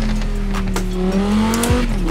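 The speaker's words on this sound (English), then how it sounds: "now I'll downshift" A high-performance car with a paddle shifter downshifts in the racing game Forza Horizon 4, its engine note droning steadily then dropping sharply in pitch as the gear changes, loud and close.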